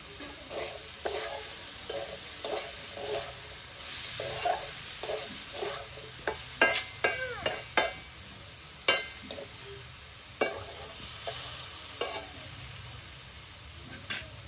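Vegetable chop frying in a pan, a soft steady sizzle broken by repeated scraping and clinking stirs from a utensil, close and fairly quiet with no talk.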